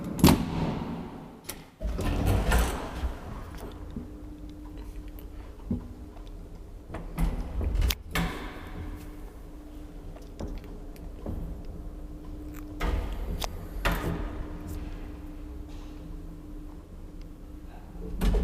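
An original 1934 Graham Brothers elevator in a Helsinki apartment building runs with a low motor hum, punctuated by sharp mechanical clunks and the rattle of its doors sliding open and shut at close range.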